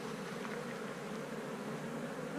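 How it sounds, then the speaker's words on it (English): Honey bees buzz in a steady, dense drone at a beehive colony, fairly faint and continuous, with no talking. "there's lots of bees here."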